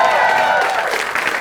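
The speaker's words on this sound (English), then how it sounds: "Show us the applause break." A studio audience at a comedy quiz show breaks into applause, a dense, loud burst of clapping and cheering that tapers slightly toward the end.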